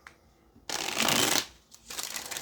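Tarot cards being shuffled in a burst of close, crisp riffling, loud for under a second, then a quieter second round of softer shuffling follows.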